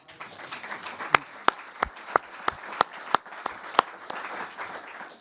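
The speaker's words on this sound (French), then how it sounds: "je crois qu'on peut les applaudir" Sparse applause in a French parliamentary defence committee hearing, a handful of distinct, separate claps ringing out over a quiet room rather than a dense ovation.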